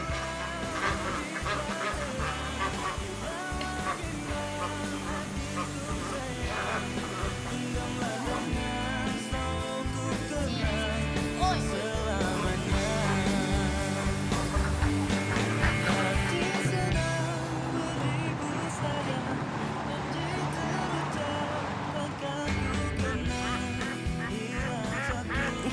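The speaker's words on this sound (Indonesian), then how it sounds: "Suara bebek." Ducks quack in a crowded duck pen, a dense, loud chorus of overlapping calls that runs steadily for the whole stretch without a break.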